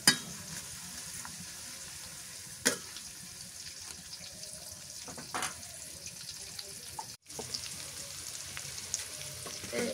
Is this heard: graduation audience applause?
no